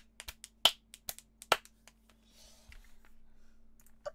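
Clapping in the Roblox game Simon Says, a handful of sharp, separate claps at an uneven pace over the first two seconds, then a faint rustling murmur.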